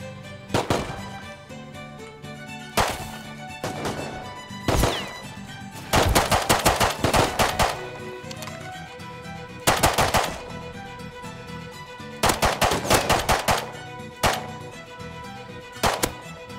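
Bursts of automatic gunfire in the survival game Rust, fired in short rapid volleys and longer sustained strings separated by brief pauses, loud and close with no talking.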